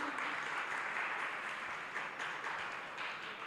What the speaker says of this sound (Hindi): तो एक बार आप लोग ताली तो बजाते जाएं।